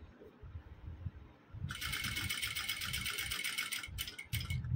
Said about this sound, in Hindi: जब अब हम यहाँ पर ये सिलाई लगाएंगे तो ये देखिए